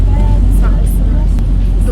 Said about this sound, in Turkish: Şimdi otobüsteyiz. Otobüs ağzına kadar doluydu.